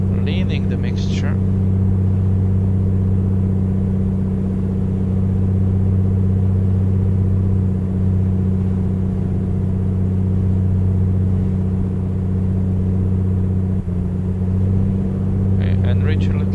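A small single-engine piston aircraft drones steadily in flight at about 1900 RPM with the mixture leaned, a loud, even low hum filling the cabin without a break.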